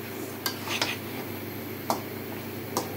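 A spoon stirs a pumpkin and prawn curry in a pan, giving a few light, close metallic scrapes and clinks over a steady background hiss of cooking.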